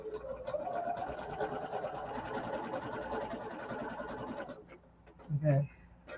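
Sewing machine stitching fabric over a scrap stitch leader, a steady close whirring hum with rapid needle rhythm that runs several seconds, then stops, followed by a brief low clunk.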